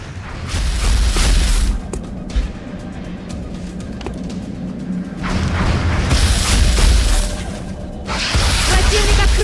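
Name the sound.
alien Sectoid firing at soldier in XCOM video game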